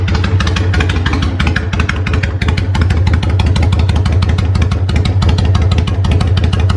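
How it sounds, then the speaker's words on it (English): A Kawasaki Vulcan motorcycle idles through its exhaust pipes, a loud, close, steady low rumble with fast even pulses throughout, no voices over it. "I love the sound of the pipes on this bike."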